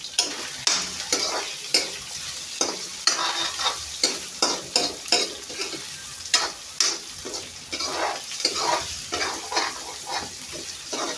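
Meat browning in a hot pan while vegetables wait to be added, a steady close sizzle broken by frequent scraping stirs with a utensil, loud and without any talk.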